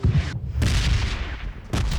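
Heavy gunfire in a video game sounds as loud, booming shots in two dense bursts with a brief gap between them, close and harsh, with no talk.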